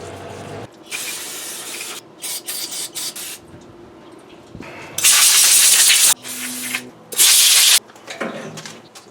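Parts washer spraying solvent over Toyota Tacoma front brake parts, loud broadband hissing bursts that start and stop repeatedly, several long sprays and shorter ones with quiet gaps between.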